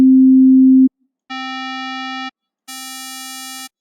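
Synthesized tones built from a sine wave with wavetable position set to 999: a pure low tone, then two brighter buzzy tones of the same pitch, each held about a second with short silences between.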